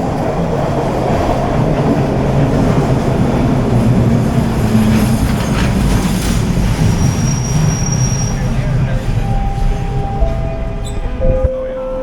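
A Scarborough RT train on TTC Line 3 runs loud and close as it leaves Ellesmere and drops into a subway tunnel, with a steady rumble and wheel roar throughout and high squeals rising near the end.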